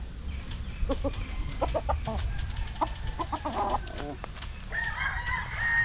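Young stag gamecocks on a Philippine farm crow and cluck in several short, overlapping calls at close range, with a longer crow near the end over a steady low background rumble.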